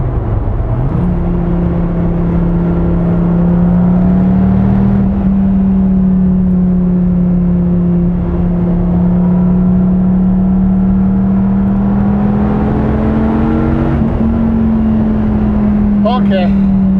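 2015 Dodge Viper T/A 2.0 V10 engine droning loudly from inside the cabin while driving, a steady deep hum that climbs in pitch as it accelerates, with people talking over it.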